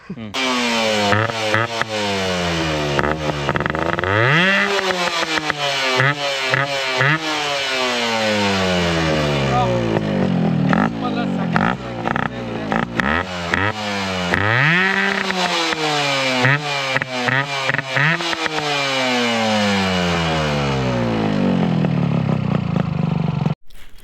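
A Yamaha RX 135 two-stroke motorcycle engine revs hard again and again, its exhaust rising to a crackling scream and dropping back, loud and close throughout.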